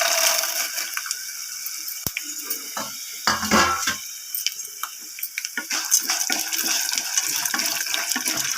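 Mustard seeds, cumin, urad dal and chana dal tempering in hot oil for mango pulihora, a steady loud crackling sizzle with sharp pops and bursts of spatter, close up and without talk.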